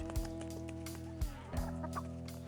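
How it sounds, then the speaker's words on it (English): Chickens cluck in short, throaty bursts close by, several separate calls spaced across a steady background hum. "I'll just come out here and watch the chickens."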